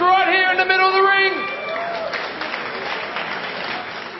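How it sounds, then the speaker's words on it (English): Boxing crowd applauds both fighters in the middle of the ring after a knockout; a ring announcer's voice comes first, then sustained clapping and cheering carries on alone. "let's give a round of applause to both fighters right here in the middle of the ring"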